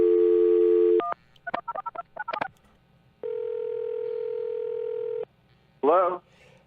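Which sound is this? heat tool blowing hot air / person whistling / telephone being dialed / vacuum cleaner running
telephone being dialed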